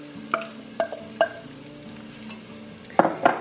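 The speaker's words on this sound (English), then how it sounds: "The olive oil and butter heated up. We're adding in our thinly sliced onions," Thinly sliced onions drop into heated olive oil and butter, giving a soft steady sizzle under several sharp clattering stirs, close by and with no talking.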